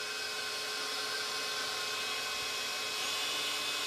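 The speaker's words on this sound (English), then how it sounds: "Got the vacuum cleaner connected there, so hopefully this should get rid of a lot of the dust." A vacuum cleaner runs steadily and loudly to pull away dust, producing an unbroken whining roar with no pauses and no voices over it.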